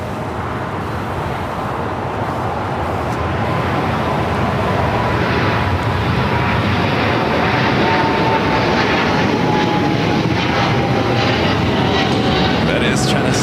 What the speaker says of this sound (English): That is China Southern Cargo Flight 448 heading to Shanghai. The 777 freighter, 4 years of age, disappearing there into the fog.